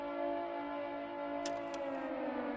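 An air raid siren sounds from a radio tower in the Ground of Aces video game, a steady sustained wail that holds loud and unbroken throughout, with brief bright clicks partway through.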